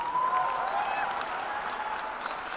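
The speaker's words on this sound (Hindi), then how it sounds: "यहां खड़े होकर लोग ताली बजा रहे हैं" An audience at a motivational network-marketing talk applauds steadily, a sustained wash of clapping from a crowd heard at moderate distance, with a faint tonal whistle-like streak near the start and no speech over it.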